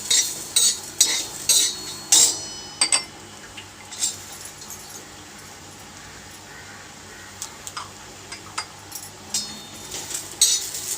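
Chicken legs cooking in a pan, with a faint sizzle under repeated sharp metallic scrapes and clinks of a utensil against the pan, clustered at the start and end.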